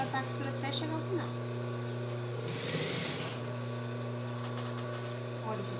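A sewing machine runs steadily through a seam around children's shorts, a continuous mechanical hum with a brief brighter rattle in the middle, with a voice speaking over parts of it.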